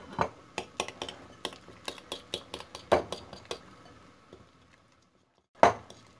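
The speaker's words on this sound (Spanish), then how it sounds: "el perejil, un poco de sal, mezclamos y agregamos poco a poco las migas de pan" Parsley, salt and breadcrumbs being mixed in a bowl for a cocido madrileño bread filling: a run of sharp utensil clinks and taps, close, tapering off into quiet before one last knock, no voices.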